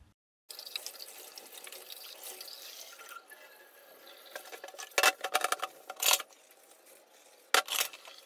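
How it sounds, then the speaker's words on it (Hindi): A kitchen tap runs steadily into a sink while morning dishes are washed, a constant hiss of water broken by clatters and splashes as utensils are handled. "अभी सुबह के जितने भी बर्तन निकले ना फ्रेंड्स उसको क्लीन करना है"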